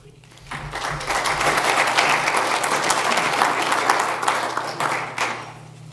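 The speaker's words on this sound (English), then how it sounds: "That was genuine applause." Genuine audience applause at a Rotary club gathering in Vermillion, a full room of steady clapping that builds quickly, holds for several seconds, then thins out toward the end.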